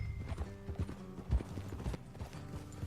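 Horses in Red Dead Redemption 2 clip-clop along a road, a near, uneven run of hoof knocks with faint background music and no talk.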